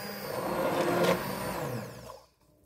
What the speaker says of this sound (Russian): Когда масса немного остыла, измельчаю погружным блендером.